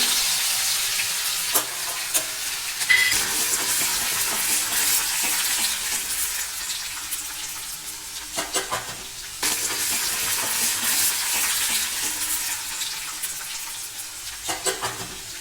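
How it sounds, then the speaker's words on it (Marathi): Crushed garlic dropped into hot oil tempered with crackling cumin and mustard seeds, frying in a pan for a Marathi fenugreek-seed curry; a steady close sizzle with stirring scrapes and a few sharp spatters, no talking. "आता आपण तिच्यात ठेचलेलं लसूण घालून घेऊ।"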